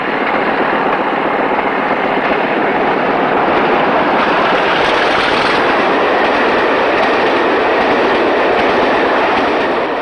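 A British Rail Class 50 diesel locomotive, 50030, passes on a single-track line with an express bound for London, a loud continuous roar and rumble of engine and wheels that holds steady for the whole stretch.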